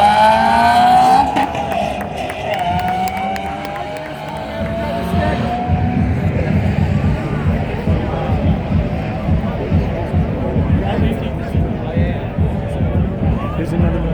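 A Dodge drag racing launches with a loud engine roar and rising gear whine that fades off, then a dense rumble of engines and crowd noise carries on, with people talking over it.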